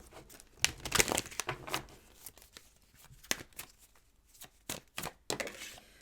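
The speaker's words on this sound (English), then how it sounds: "Let's go ahead and pull some more cards." Tarot cards pulled from a deck, with close crisp rustles, slaps and crinkles coming in irregular bursts with short pauses between.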